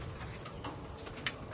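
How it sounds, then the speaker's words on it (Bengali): Pigeons cooing inside a pigeon house, a steady low murmur of soft coos with a faint tick or flutter near the end, heard alone without talk. "এই যে অনেক পায়রা আছে"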